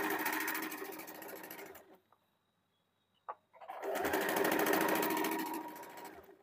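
A sewing machine stitches saree fabric for a kurti in two steady whirring runs, close and even, separated by a short pause with a single click.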